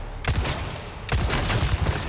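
Bursts of rapid gunfire from Resident Evil 4 Remake on PS5 crackle in two sustained volleys separated by a brief pause, loud and close, with no talking.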